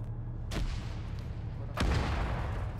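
Two heavy booms from a frag grenade in a military shooter game, one at the start and a louder second burst toward the end, both over a steady low rumble with no talk.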